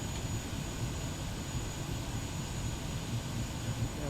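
A Kodiak 100 turboprop taxiing in Microsoft Flight Simulator, a steady, even engine drone with a low propeller rumble and a faint high whine, continuous and unchanging, no talking.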